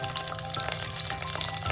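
Green chilies frying in hot oil in a pan, a steady close sizzle and bubbling with faint stirring, heard alone over a short stretch.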